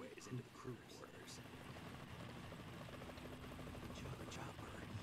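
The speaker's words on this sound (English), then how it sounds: "Chopper." Helicopter in the Metal Gear Solid video game, a faint rhythmic rotor chop and engine hum mixed under quiet voices.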